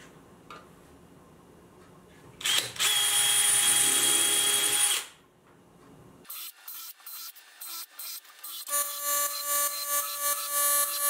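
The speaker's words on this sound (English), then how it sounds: "I am gonna reinforce these boxes with some screws." A drill drives screws into wooden drawer boxes, with a long steady whir of the motor, then a series of short, stuttering bursts as screws bite into wood.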